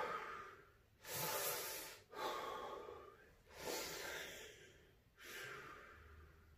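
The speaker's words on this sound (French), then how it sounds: "Juste consciemment vous respirez comme ça et vous allez voir." Slow, deliberate deep breaths for relaxation, close to the microphone: four long airy inhales or exhales, each swelling then fading, separated by short quiet pauses.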